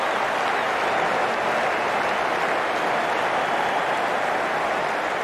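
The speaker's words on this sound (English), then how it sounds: "The crowd on their feet." A cricket stadium crowd in the video game Cricket 19 roars with steady, dense applause and cheering that holds at a constant loud level throughout, with no voices standing out.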